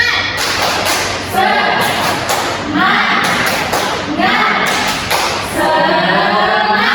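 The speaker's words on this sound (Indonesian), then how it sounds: "lagi tepuk semangat" A secondary-school math class repeats its rhythmic spirit clap, loud group claps and thuds in repeating patterned bursts, with students' voices chanting in unison over the beats.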